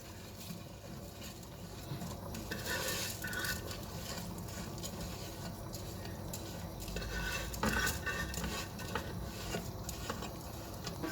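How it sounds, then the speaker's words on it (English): Rice pours and stirs into a pot of boiling water, a continuous rustling, scraping clatter of grains and utensil against the pot with no talking. "the water is boiling now, and the rice is ready to add now"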